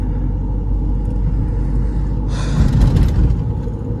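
Ford Endeavour 3.2 and Mahindra XUV500 in a sport-mode drag race, heard as a heavy continuous engine rumble from inside the cabin, swelling into a louder roar of acceleration partway through.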